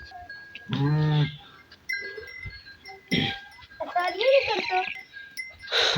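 A Kajle sheep gives a loud, close bleat at a farm in Bhakkar, Pakistan, followed by more wavering bleats and scattered animal calls, with someone speaking briefly between them.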